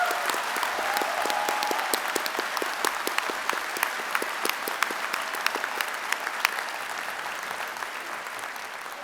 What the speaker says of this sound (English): Let's give our volunteer staff and faculty a big round of applause.